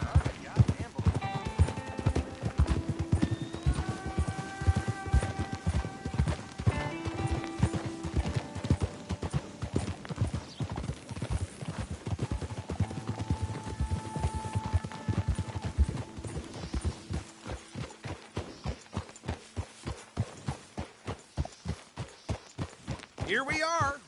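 Horse hooves clip-clop steadily in Red Dead Redemption 2, a continuous even walking rhythm lasting the whole stretch, with occasional speech in the background.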